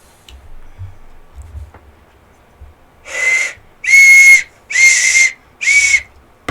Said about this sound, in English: It's just this plastic thing that if you blow on it at the right angle, it makes a whistle sound